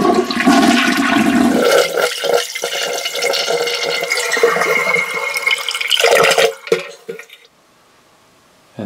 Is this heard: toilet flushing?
yes